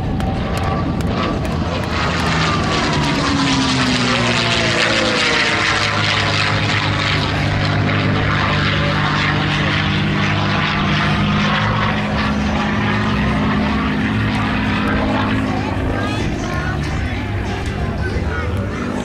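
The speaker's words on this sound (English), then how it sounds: "Doug's going to do a 4-point hesitation roll when he comes back across now." A P-51C Mustang 'Tuskegee Airmen' propeller plane flying a four-point hesitation roll gives off a loud, continuous piston-engine roar whose pitch sweeps and swells as it passes.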